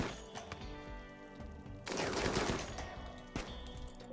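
Gunfire in the video game RimWorld, heard as a dense burst of rapid shots and impacts in the middle of a soft ambient background, then a sharper crack near the end, with no talk.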